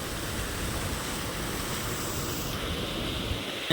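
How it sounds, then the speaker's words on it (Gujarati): Water rushes out of a broken dam as a steady, dense, full roar that stays constant and close throughout, with no voices. "આ તો કઈ તૂટી ગયેલ લાગે જો પાણી આકોર આવે છે"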